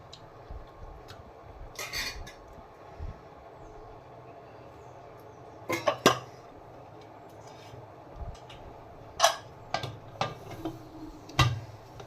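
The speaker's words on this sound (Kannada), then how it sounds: "ಇವಾಗ ಕುಕ್ಕರ್ ಮುಚ್ಚಳ ಮುಚ್ಚಿಬಿಡೋಣ." Sharp metallic clanks and clicks come in a few bursts as a pressure cooker lid is handled and locked into place over chicken biryani, with quiet pauses between.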